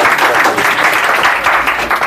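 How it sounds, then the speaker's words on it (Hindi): Loud, dense applause from an audience welcoming a guest onto the stage at an educational quiz show event, steady clapping filling the whole moment without pause. "जरा जोरदार ताली लोग स्वागत कीजिए इनको"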